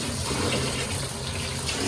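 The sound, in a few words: water running while washing rice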